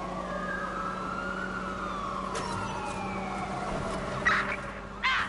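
A video game police car siren wails, sweeping up and down over a steady electronic hum, with a couple of short bright bursts near the end.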